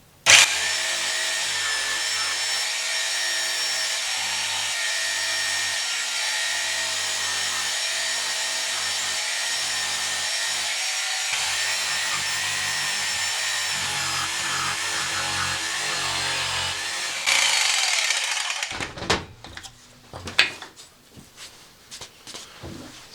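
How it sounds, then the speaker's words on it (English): Jigsaw cutting a wooden sword handle to shape, a loud steady buzzing cut for most of the stretch, then sputtering and stopping with some handling noise at the end. "what I have is a jigsaw, so I'm trying not to put my finger in the way of the blade"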